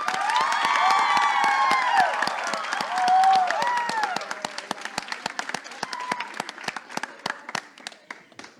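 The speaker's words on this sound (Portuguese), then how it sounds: "Muitas palmas para a Débora" Studio audience applauding and cheering as poet Débora Garcia is welcomed onto the stage, a dense burst of clapping with whoops that thins into scattered claps toward the end.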